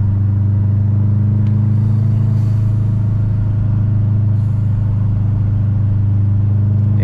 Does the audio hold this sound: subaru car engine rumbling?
yes